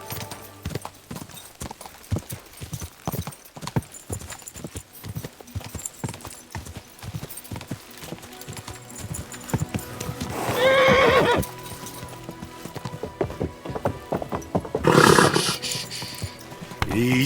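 Rapid hoofbeats of a galloping horse clatter steadily, then two loud neighs burst out near the end over a rumbling soundtrack in Kingdom Come: Deliverance II on PS5.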